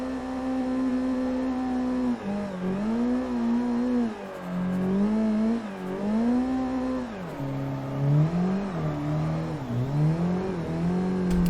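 Car engine in a racing game driven with a G29 wheel while drifting, droning loudly and steadily with repeated dips and swells in pitch as the revs rise and fall through the turns.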